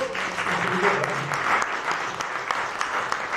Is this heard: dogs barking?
no